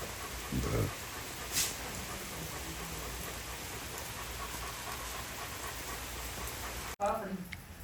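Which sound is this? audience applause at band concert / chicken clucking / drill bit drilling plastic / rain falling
rain falling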